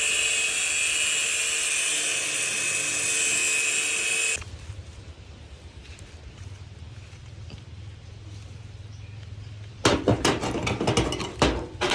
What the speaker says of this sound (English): I continued scraping the long metal again, this time vertically, from the main shaft to the tip